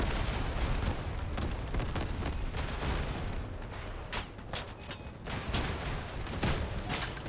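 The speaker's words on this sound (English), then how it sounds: "It is kind of satisfying to shoot so many rockets though." A Cicada rocket launcher firing many rockets in a shooter video game: a loud, continuous barrage of rapid launches and blasts, crackling and booming without pause.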